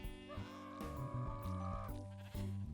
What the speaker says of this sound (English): There's the screaming goat.